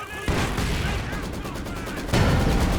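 Dense rolling barrage of ZiS artillery fire in the Company of Heroes 2 real-time strategy game, continuous booming impacts and rumbling blasts that swell louder near the end, with no talk over it.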